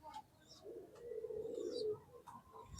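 Soft, low cooing from pigeons in a loft, a faint rolling coo lasting about a second amid quiet background noise.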